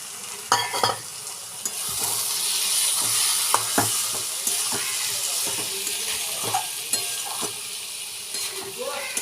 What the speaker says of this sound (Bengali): মটর ডালটা আমি এর মধ্যে দিয়ে ভালো করে আবারও কষাবো